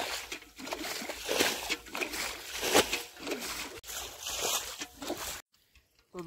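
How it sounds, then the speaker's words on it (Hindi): Water being splashed and thrown out of a village fishing pond, a run of irregular sloshing and splattering bursts of moderate loudness, ending in brief near-silence. "करीना एक बार छीट रही है"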